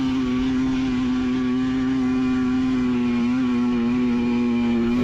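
A 300 motorcycle climbing a volcanic cinder hill in third gear at wide open throttle, its engine holding a loud, steady, strained drone close by for the whole stretch.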